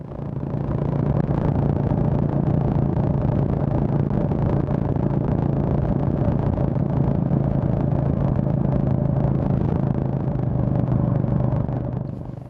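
A Honda GB350 motorcycle cruising on the A5 road, a steady loud engine drone with heavy wind rumble, holding constant speed throughout.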